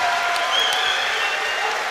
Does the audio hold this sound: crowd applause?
yes